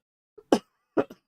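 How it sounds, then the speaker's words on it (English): A man coughs a few times up close, one harsh cough followed by a quicker pair, while watching a live football match. "I'm gonna be coughing pretty bad in this"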